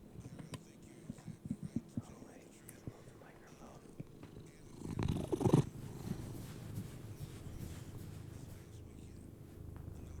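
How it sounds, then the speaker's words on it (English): Soft, close cat purring hums low and steady, with faint rustling and handling noises and a brief louder burst of movement. "She's purring."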